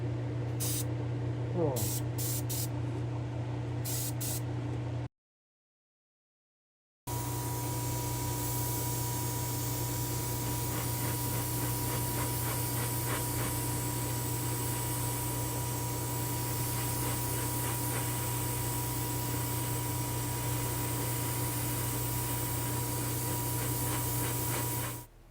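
An airbrush sprays a dark bluish-green coat onto a diecast Rocket League Honda Civic, a steady close hiss running on with a brief gap early, and a short spoken exclamation near the start.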